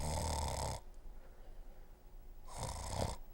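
A person imitates the snoring of a sleep apnea sufferer with two rasping, throaty snores separated by a quiet pause, close and fairly soft.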